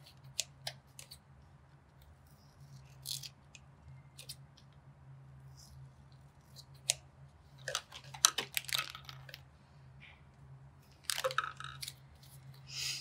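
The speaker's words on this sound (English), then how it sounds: "Gonna trim the edges." Paper artist trading card being trimmed at the edges, sharp scattered snips and crisp cutting crunches close up, coming in short irregular bursts over a low steady hum.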